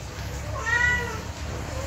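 A British Shorthair kitten gives a single rising and falling meow, moderately loud over steady background noise.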